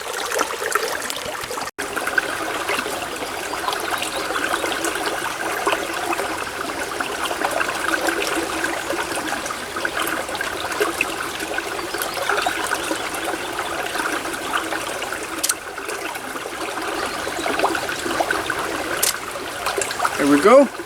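A miniature waterfall pours water in a steady, close trickling rush that keeps going without a break, with a single sharp click near the start.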